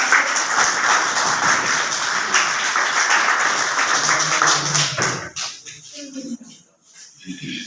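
A crowd applauds at a school farewell ceremony as a gift is presented, the dense clapping rising and then breaking off sharply, followed by scattered taps and a few voices.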